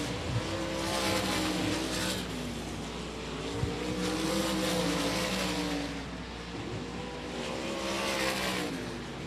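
Race cars running hot laps in a heat race at 67 Speedway, engines roaring steadily and swelling as cars pass close by, loud and alone with no talk.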